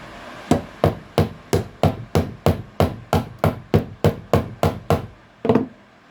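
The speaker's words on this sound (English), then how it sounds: "It's the smallest ball peen I have" A small ball peen hammer taps gently on a vehicle part during driveshaft and accessory work, about fourteen evenly spaced, crisp close knocks and then one heavier double hit, with no talk.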